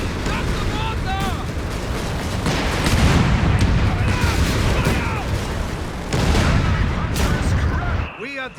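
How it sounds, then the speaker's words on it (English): Mortar and artillery fire fill a Company of Heroes 3 battle with dense, continuous rumbling blasts and booms layered over each other, while shouted voices break through the din. "Mortar fire overhead!"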